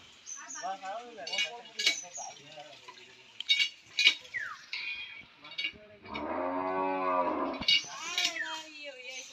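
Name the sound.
cows mooing on a cattle farm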